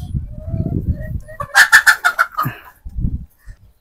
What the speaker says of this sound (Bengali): মুক্তার ভাইয়ের মুরগিগুলো অনেক সুন্দর, একদম ফুটফুট কালার